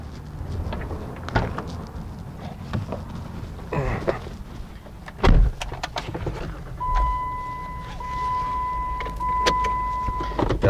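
A Jeep Wrangler JK fitted with an Edelbrock E-Force supercharger sits idling as a drive begins, with a low engine rumble, scattered clicks and knocks, and a steady tonal whine holding over the last few seconds.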